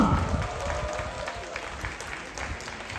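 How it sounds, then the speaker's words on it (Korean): Crowd clapping and murmur at a bullfighting contest between two bulls, moderate and somewhat distant, fading slightly over a few seconds. "이럴 때 단연 여러분들 박수가 필요합니다"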